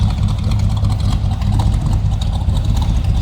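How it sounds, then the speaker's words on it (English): A 1964 Chevrolet Biscayne two-door sedan with a 327 V8 idles close by. Its throaty exhaust gives a steady, deep rumble with a slight pulsing lope throughout. "A little rumble coming out of that 327."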